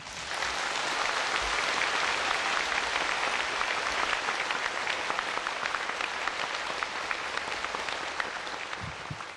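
Sustained applause from an audience at a spiritual talk by Supreme Master Ching Hai in Hsihu, a dense, even wash of many hands clapping at steady loudness for the whole stretch.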